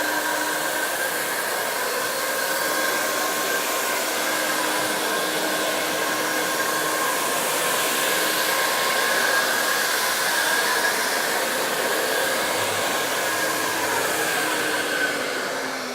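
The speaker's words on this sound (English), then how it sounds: "once I activate the trigger, the machine comes up and I can start working" An i-mop floor scrubbing machine runs with a steady, loud motorized whir and hum that holds constant throughout, a continuous mechanical drone close by with no talking.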